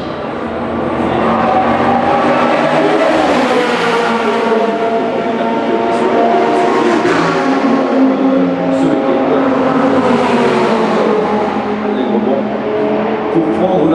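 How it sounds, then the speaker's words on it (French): A Dodge Viper GT3 race car circles the Spa-Francorchamps track during qualifying for a 2009 GT3 endurance event, its engine droning steadily with rising and falling revs under continuous commentary. "On a également la numéro 20 en piste maintenant, l'une des Dodge Viper,"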